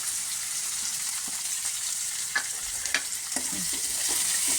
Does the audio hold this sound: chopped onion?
yes